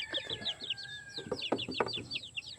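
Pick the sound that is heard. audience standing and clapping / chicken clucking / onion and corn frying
chicken clucking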